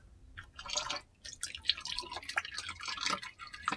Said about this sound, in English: I'm kind of keeping the plug on this guy and having it drain slowly